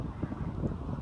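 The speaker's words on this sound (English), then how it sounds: "All right, it's getting windy." Steady low wind rumble buffeting the microphone on the Appalachian Trail, continuous and fairly loud with no other clear sounds.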